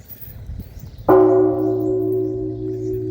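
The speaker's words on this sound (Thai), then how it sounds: "เนี่ยวิธีสั่นระฆังต้องใช้วิธีดึงอย่างนี้นะครับ" After some faint background shuffling, a Thai temple bell at Wat Phu Man Fa, rung by pulling, strikes once deep and loud and hums on with a long, sustained resonant tone.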